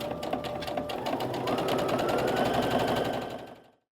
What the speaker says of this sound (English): Now I'm working on a fairly basic beginner sewing machine here.